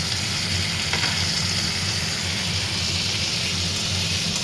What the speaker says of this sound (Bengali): এবার এর মধ্যে টমেটো আর আলু কুচিটা দিয়ে দেবো আর একটা কাঁচা লঙ্কা